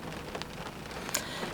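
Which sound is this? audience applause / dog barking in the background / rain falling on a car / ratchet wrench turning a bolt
rain falling on a car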